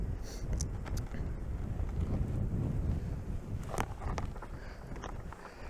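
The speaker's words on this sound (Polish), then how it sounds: "No i wiatr. Niestety trochę się zrywa." Steady wind buffeting the microphone outdoors beside beehives in April, a low continuous rumble with gusty swells and occasional faint clicks, no talking.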